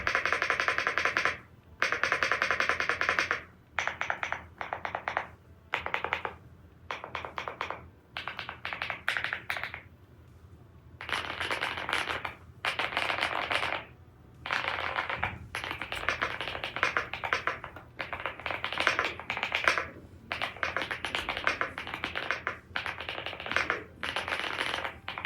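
Typing on a Yunzii AL75 Pro mechanical keyboard, a steady run of close clacky keystrokes in bursts separated by short pauses, with no talking.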